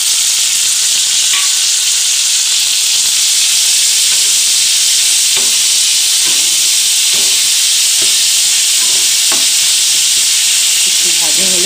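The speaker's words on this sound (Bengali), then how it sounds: "আলুটা ভাজা হচ্ছে।" Chopped potato with salt and turmeric fries in hot oil in a pan, a dense continuous sizzle with soft stirring scrapes, loud and close throughout.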